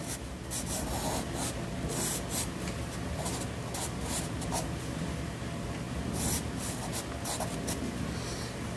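Pastel sticks scratch and rub steadily across paper while sketching a sea turtle, a continuous close dry scraping broken by repeated short strokes and taps, with no voices.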